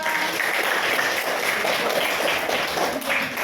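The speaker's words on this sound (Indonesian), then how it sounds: "Tepuk tangan untuk kita semua." Dense, loud applause from a group of children and their teacher in a classroom, steady clapping filling the whole stretch without a break.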